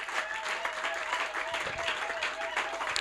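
A church congregation applauds steadily in a dense wash of clapping, with voices and a sustained musical tone running beneath it.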